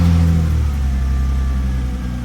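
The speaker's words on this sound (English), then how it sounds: "and the car turns on." A Hyundai Genesis Coupe engine starts by remote start and settles into a loud, close, steady idle rumble, with no talking.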